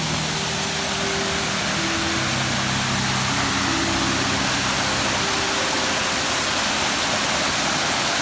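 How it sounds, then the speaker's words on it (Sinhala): Small waterfalls in the Meethirigala Nissarana forest give a loud, constant rushing roar of falling water, close by and unbroken throughout, with no voices. "ඔයාලට පේනවා ඇති මේ වගේ පොඩි දිය ඇලි දිගටම තියෙනවා."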